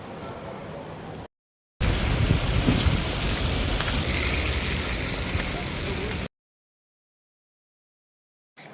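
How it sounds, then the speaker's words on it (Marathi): Steady rain hisses loudly and close, cutting out briefly twice before resuming. "मस्तपैकी पाऊस आणि हिरवंगार वातावरण"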